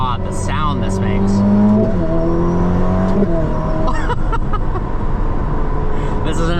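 A 2025 Ferrari SF90XX, a 1016 hp rear-wheel-drive hybrid supercar, accelerates hard with a loud rising engine note that climbs, drops at a shift and climbs again, heard from the cabin with a voice briefly over it.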